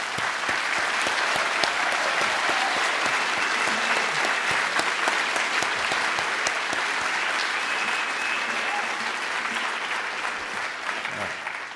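An audience applauds steadily for several seconds, a dense, even wash of many hands clapping at once without pause.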